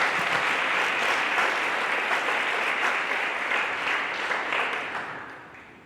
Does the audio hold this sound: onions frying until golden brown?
no